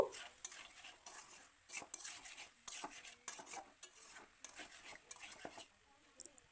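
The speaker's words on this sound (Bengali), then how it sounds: "লবণ ও হলুদ দেওয়ার পর আবারও ভালো করে নাড়াচাড়া করে নেব" Mutton being stirred with turmeric and salt in a pot for a Bengali mutton curry, a series of soft scraping and clinking strokes in an uneven rhythm, faint and close, over a light sizzle.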